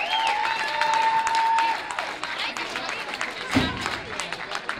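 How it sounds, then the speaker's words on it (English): Applause and crowd noise fill a wrestling event at a tag team elimination match, steady clapping with cheers and a whistling tone early on, and voices mixed into the din. "big round of applause for these gentlemen right here"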